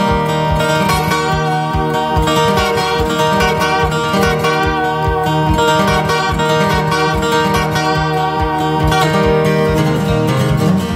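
A local freight train whistle imitated on steady, rhythmic guitar playing, dense chordal strumming and sustained tones running continuously and loudly throughout with no talking.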